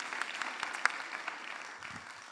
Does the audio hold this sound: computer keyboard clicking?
no